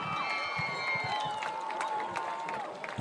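Spectators at a high school football game clap and cheer, a moderate, somewhat distant crowd sound with scattered shouts, while a voice talks over it.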